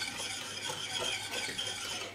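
Rice flour is stirred into milk for keşkül, a soft, continuous swishing and scraping of a spoon in a pot, quiet and steady throughout.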